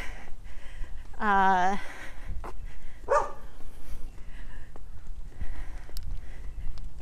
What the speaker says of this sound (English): big dog's gonna bark